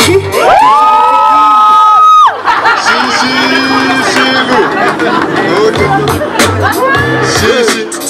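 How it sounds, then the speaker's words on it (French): Crowd at a gospel summer concert party cheering, shouting and whooping, a loud sustained roar of many voices with rising shouts that swells and dips over several seconds. "j'vois la foule qui pousse des cris"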